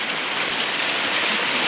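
Steady rain falls over a village, a dense, even hiss of drops on surfaces that holds constant throughout, fairly loud with no voices.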